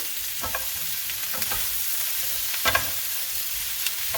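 Tofu and snow peas sizzle in a wok over medium-high heat, a steady close frying hiss broken by scraping stirs and a few sharp clinks.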